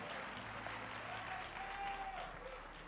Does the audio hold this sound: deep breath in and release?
no